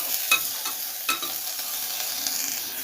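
Spices fry in a pan with salt added while a utensil stirs them, giving a soft, continuous sizzle broken by a few sharp scraping knocks, near and fairly quiet, with no speech.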